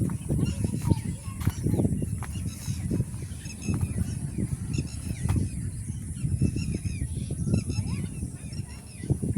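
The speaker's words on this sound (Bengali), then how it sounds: "সামনে কতগুলো হাঁস দেখা যাচ্ছে" Ducks emerge from a rice field by a riverside in Gazipur, giving repeated honking and quacking calls at middle distance over a bed of outdoor rumble and breezy noise, with faint voices in the background.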